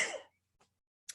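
A person coughs or clears their throat once, a close, loud burst at the start followed by a short faint rasp and a second brief burst near the end, recorded indoors.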